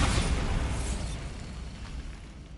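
A Bombarda blasting spell detonates in Hogwarts Legacy on PS5: a single loud, close explosion bursts at the start, then its rumbling tail fades away over a couple of seconds.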